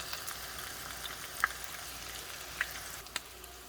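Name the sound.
tacos frying in oil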